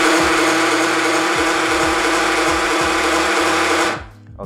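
A Bafang BBSHD e-bike mid-drive motor runs under throttle with a loud, steady mechanical whine and grinding buzz that holds evenly for about four seconds and then winds down abruptly, with no talking.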